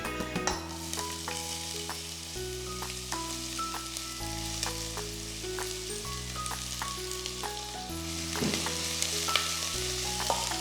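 Two large sliced onions sizzle steadily in a pan with spices for a Kuttanadan duck curry, a continuous close frying hiss with occasional stirring scrapes and a faint background melody throughout.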